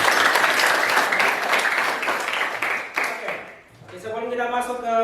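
Applause from a high school class during a lesson, dense clapping that fills most of the clip before fading, followed by a voice speaking alone at the end.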